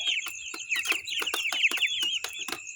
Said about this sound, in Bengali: আর আমার এইগুলো ব্রয়লার মুরগি, আমার ব্রয়লার মুরগি এগুলো।